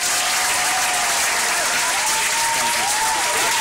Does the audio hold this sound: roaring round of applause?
yes